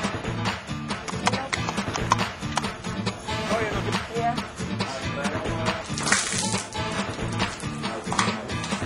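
Rhythmic hoof clip-clops of a horse, steady and fairly close, repeating throughout with some background noise.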